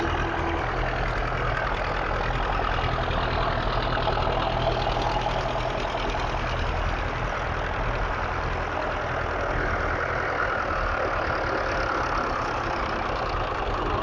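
Fordson Power Major tractor engine idling at a steam rally, a steady low rumble with a continuous mechanical churn, loud and close throughout with no pauses and no talk.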